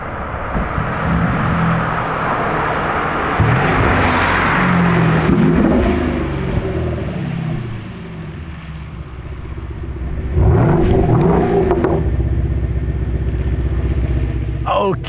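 An orange Lamborghini Urus revs loudly and drives past nearby, its engine roar swelling and fading, with a second burst of revving near the end over steady traffic noise; people talk over it.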